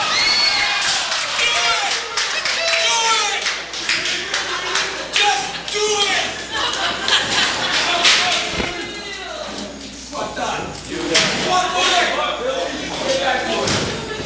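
At a UEW wrestling title match, a loud arena crowd shouts and cheers without a break, with scattered claps and bangs. A commentator talks over the noise throughout.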